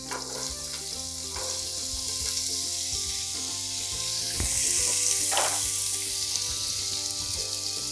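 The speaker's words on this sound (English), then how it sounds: "peppers, and saute until the veggies are cooked" Carrots, zucchini, peas and peppers sauté in a pan for vegetable quinoa fried rice, giving a steady close sizzle with scattered stirring scrapes and a brief louder clack partway through, under soft background music.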